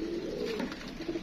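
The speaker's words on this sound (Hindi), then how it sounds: "ये भी हमारे कबूतर माशाल्लाह गिजे गजाए कबूतर" Pigeons give a short, low, throaty coo close by in a domestic loft setting, one soft burbling call.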